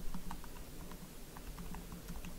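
Quick taps on a computer keyboard, faint and close, entering a spreadsheet entry over a low steady background hum.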